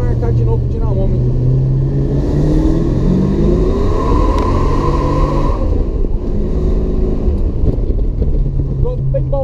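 A supercharged Dodge Dart with a 318 engine holds a loud, sustained roar during a tire burnout, its deep rumble rising and falling slightly in pitch, with tire noise and a voice partly under it.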